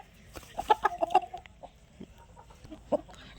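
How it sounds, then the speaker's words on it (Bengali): A desi chicken clucking close by in a backyard flock, a quick run of sharp clucks followed by a few scattered single calls, with no talk. "এই দেখো একটা মুরগি।"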